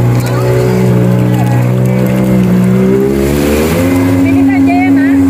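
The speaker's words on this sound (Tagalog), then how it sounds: "Nababa na rin pala yung isang jetski pa. Ako ulit nag-drive." A jet ski engine drones steadily while being driven, a loud continuous motor hum with a shifting pitch that climbs near the end, and voices talking over it throughout.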